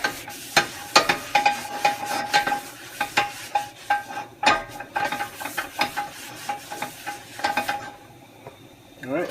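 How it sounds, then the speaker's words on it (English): A cloth or paper towel wipes excess oil off a Finex cast iron skillet, giving a run of quick scrubbing and rubbing strokes with light metallic scrapes and knocks, close and fairly quiet, fading at the end. "So we're going to wipe it all off."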